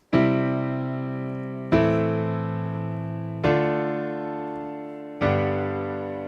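Basic three-note piano chords played in both hands, struck four times at a slow, even pace, each chord ringing out and decaying before the next.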